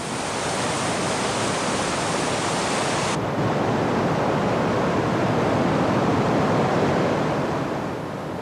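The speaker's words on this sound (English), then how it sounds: "The river shifted into its new course through the cliffs of Glen Canyon" Broad steady rush of river water flowing through the cliffs of Glen Canyon, a dense continuous roar with no voices, its hiss dropping slightly partway through.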